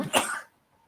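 A single short, close sneeze burst that cuts off abruptly into quiet.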